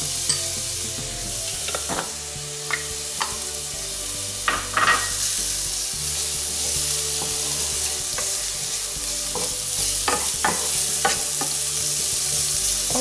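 Shallots fry in a pan with a continuous, even sizzle, and occasional scrapes and taps from stirring cut through it. No one speaks.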